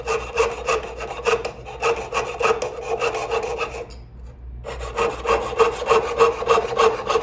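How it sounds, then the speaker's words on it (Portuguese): A hand saw cutting a ring template mould in a workshop, a close rhythmic rasping of quick repeated strokes that briefly pauses for about half a second before resuming. "Então vamos aqui serrar esse molde."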